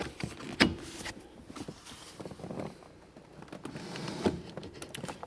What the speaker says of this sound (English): Next, you want to extend the steering wheel out as far as it'll go.